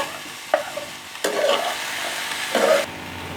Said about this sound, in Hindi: अब हम इसमें ये स्टीम चिकन ऐड करेंगे। अच्छी तरह से मिक्स करेंगे।